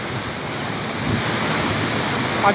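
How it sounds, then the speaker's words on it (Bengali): Kushiyara river water surges through a sluice gate into a haor wetland, a steady, loud, broadband roar of fast-rushing flow that holds constant throughout with no voices. "দেখছেন পানি কি স্পিডে যাইতেছে"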